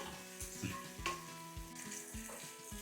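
Onions and green chillies fry in a pan for palak aloo pulao with a soft crackle, while a utensil taps and scrapes at a steady pace, fairly quiet and with no speech.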